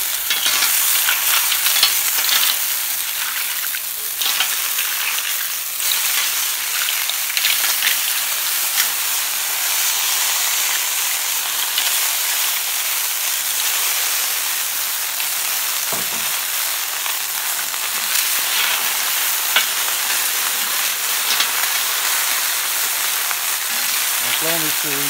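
Shellfish sizzle steadily on a thick rectified-steel plancha, a dense continuous frying hiss that stays loud and close throughout, with a brief voice rising near the end.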